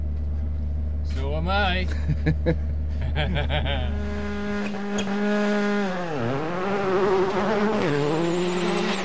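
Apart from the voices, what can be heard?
Skoda WRC rally car driving a stage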